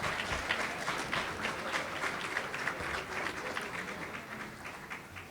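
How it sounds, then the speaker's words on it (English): A large audience applauds steadily for Senator Raphael Warnock at a morning prayer breakfast, a dense wash of many hands clapping at moderate, somewhat distant level throughout with no voices standing out. "Please give Senator Raphael Warnock another round of applause"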